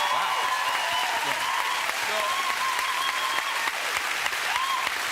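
A studio audience on a television talk show keeps up loud, dense applause with cheering throughout, and people's voices rise above the clapping.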